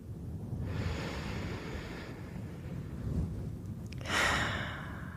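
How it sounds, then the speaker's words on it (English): A slow, deep inhaled breath drawn in over a soft, steady hiss of background noise, followed by a brief brighter puff of air near the end, close and quiet. "Take a deep breath in with me."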